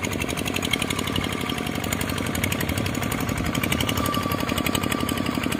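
Two machines with RT155 engines run hard while scraping sticky clay soil from a mound, giving a loud, steady, rapid chugging drone that never lets up, with no talking.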